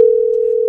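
A telephone ringing tone on a call placed during a talk show: one steady, loud electronic tone held unbroken from start to finish, with no voices.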